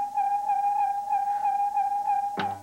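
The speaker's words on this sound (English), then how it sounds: "When I swing it slowly, it sounds like this." A whirling tube toy swung slowly gives a steady low, hollow whistle-like tone that wavers slightly with each swing, close and alone, ending in a brief clatter.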